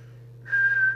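A brief steady whistle into the microphone of a Kernow Beta 2100 UK mobile CB radio during transmit adjustment, starting halfway through over a constant low electrical hum.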